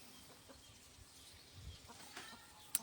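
Faint clucking of chickens and a rooster somewhere off in the distance in a small Thai village, over quiet background noise, with a short louder sound at the very end.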